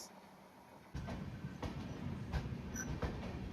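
Madgaon Hapa Express train on the Konkan Railway rolling by up close: a quiet lull, then a sudden loud, steady rumble of wheels with regular rhythmic clacks over the track.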